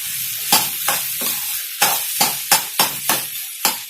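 Vegetable fry for a South Indian meal sizzles steadily in a pan, with a dozen sharp scraping stirs of a spatula cutting through the constant hiss, close and loud.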